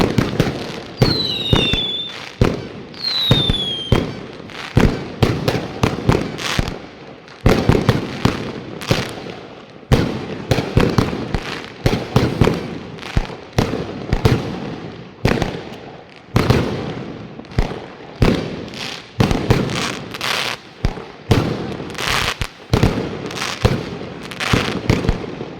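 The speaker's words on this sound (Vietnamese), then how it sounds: "Trời ơi, khiếp, nổ liên tục thôi." Fireworks bursting nonstop at a New Year's Eve celebration in China, with several shells whistling upward early on, then dense rapid cracks and booms filling the whole stretch without pause.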